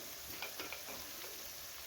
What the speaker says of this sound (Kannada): ಒಂದು ನಿಮಿಷ ಇದನ್ನು ಫ್ರೈ ಮಾಡ್ಕೊಳ್ಳೋಣ